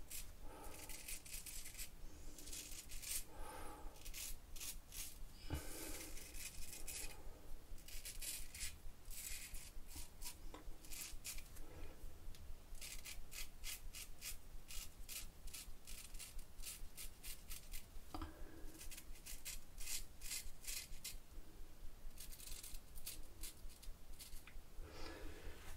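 Shavette straight razor scraping through beard stubble on the chin and mustache, a steady run of close, dry rasping strokes that continues almost without pause for about twenty-five seconds.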